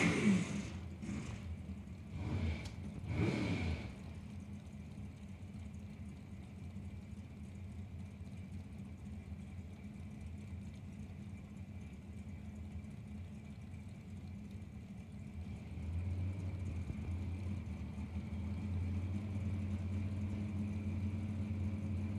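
Dragster and door cars race down a drag strip, a Camaro among them: a few sharp engine blasts up close at first, then a long, steady distant rumble that swells again near the end.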